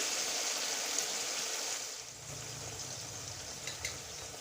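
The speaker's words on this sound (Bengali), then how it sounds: "তেল ছুটতে শুরু করেছে তাই জন্য আমি আঁচটা কমিয়ে দিচ্ছি" Oil spluttering and sizzling in a pan while pea pickle is cooked, a steady close hiss that eases slightly midway after the heat is lowered, with a few small pops.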